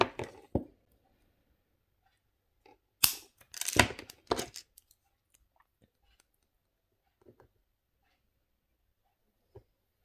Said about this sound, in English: I'm going to cut them short and just pop them round there.